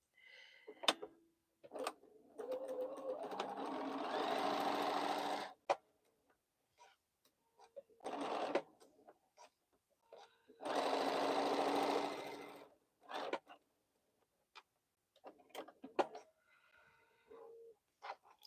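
A sewing machine stitching boho heart quilt segments, running in several bursts of steady whirring, the two longest lasting a few seconds each, separated by quiet gaps with small clicks and handling ticks.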